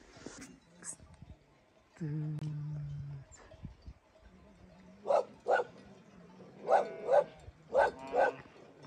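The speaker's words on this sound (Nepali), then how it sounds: "भोटे कुकुर भुकिरहेको छ" A Bhote dog, a Tibetan mastiff type, gives a string of deep barks in pairs and clusters a short way off, with a person talking and other household sounds in between.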